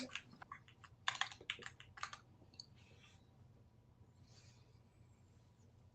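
Quiet computer keyboard typing during meeting note-taking, a quick burst of close key clicks followed by sparse, fainter taps over a low room hum.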